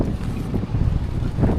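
Strong wind at a beach by a boat rushes and buffets the microphone in a loud, steady roar with low gusting pulses.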